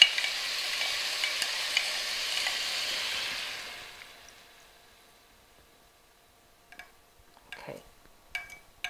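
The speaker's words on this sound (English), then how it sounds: "from there, you put the sauce in." Chinese pork sizzles and is stirred in a pan just as sauce goes in, a busy frying hiss for a few seconds that dies down into quiet, followed by a few scattered clicks and clatters.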